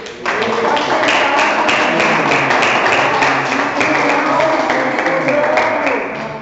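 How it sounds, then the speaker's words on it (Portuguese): A church congregation claps together in a full, sustained round of applause, a dense and even patter of many hands that fills the room steadily for several seconds before tapering slightly at the end. "Vamos dar uma salva de palmas para o nosso Deus."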